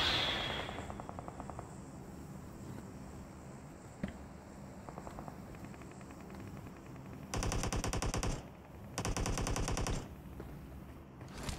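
Gunfire in the mobile shooter PUBG Mobile arrives as rapid automatic bursts, some faint and distant early on, then two loud, sustained close volleys near the end, with no speech.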